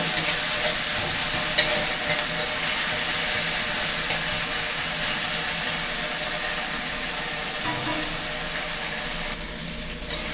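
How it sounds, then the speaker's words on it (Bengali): Chopped ginger and garlic go in with browned onions in a pan for a rohu fish curry, sizzling and frying steadily while being stirred, with occasional scraping clatter throughout. "পেঁয়াজটা বেশ ভালো করে ভাজা হয়ে গেছে, এতে আদা রসুনটা দিয়ে দেবো, কুচি করা আদা রসুনটা"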